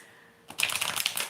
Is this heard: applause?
no